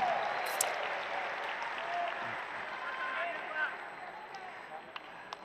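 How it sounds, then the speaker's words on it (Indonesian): Applause from a large crowd of attendees and volunteers at an Indonesian political rally, a dense sustained clapping that swells then slowly fades, with a voice heard faintly over it. "Boleh tepuk tangan buat semua yang hadir di sini."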